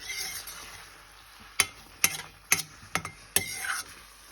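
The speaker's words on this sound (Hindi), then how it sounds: "शीनू मस्त मस्त मैगी मिक्स कर रही है" Maggi noodles are stirred and mixed in a pan, with several spaced metallic clinks of a utensil over a soft sizzling background, close and fairly quiet.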